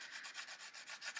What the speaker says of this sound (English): Just do a crayon rubbing there to do it quickly.